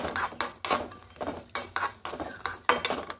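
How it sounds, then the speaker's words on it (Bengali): Sesame seeds and peanuts dry-roasting in a small pan, a spoon or spatula scraping and clinking against the metal in irregular strokes, close and fairly quiet. "তিলটা নিয়ে নেব, আর এই বাদামটা নিয়ে নেব, নিয়ে হালকা খোলায় একটু ভেজে নেব"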